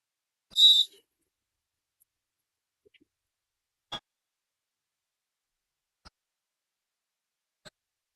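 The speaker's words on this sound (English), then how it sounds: "Rolling whistle brings us out of the timeout." A roller derby referee blows a short, shrill rolling whistle to end a timeout during a Pittsburgh Derby Brats versus Raleigh bout. The trill is followed by near silence, broken only by a few faint, scattered clicks.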